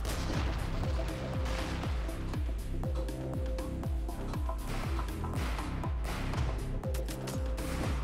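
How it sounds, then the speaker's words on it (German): Rapid bursts of video game gunfire, repeated shots in a steady, relentless rhythm over a constant background din. "weil die ordentlich Schüsse abfahren"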